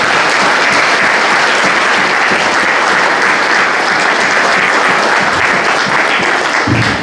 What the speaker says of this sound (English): I'd like you to join me in a round of applause for David sponsoring this